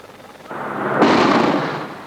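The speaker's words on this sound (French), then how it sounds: "L'explosion n'est pas spectaculaire, elle est efficace." A controlled blast breaks up rock blocks under a protective net beside a motorway near Nice, giving a muffled, dull burst that swells into a broad rushing roar and holds for about a second. No one speaks.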